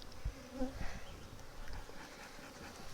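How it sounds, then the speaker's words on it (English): A soft, steady hum of many honey bees buzzing around a hive during an inspection, with a brief low thump at the start. "there's a bunch of bees"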